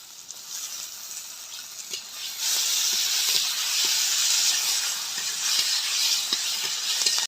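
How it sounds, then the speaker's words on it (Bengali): Chopped tomato dropped into frying jackfruit curry, a hissing sizzle that jumps louder partway through and keeps steaming steadily, with a few soft clicks of stirring nearby. "টমেটো কুচি দিয়ে দিলাম।"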